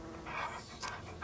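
A dog in a video game pants in quick, soft rhythmic breaths, a faint short burst with no talk over it.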